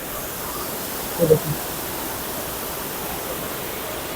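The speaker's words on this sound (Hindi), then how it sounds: "और इधर उधर देखें पानी ही पानी है, पानी के शोर आ रहा है।" Rushing water at a Kashmir waterfall makes a steady broadband roar that fills the whole clip, loud and unbroken. A brief spoken word rises out of it near the middle.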